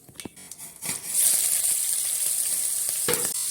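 Cumin seeds, mustard seeds and finely chopped green chillies dropped into hot oil for bhindi masala, a few light taps and clinks before a loud, steady hiss of sizzling takes over and continues close up, with no talk.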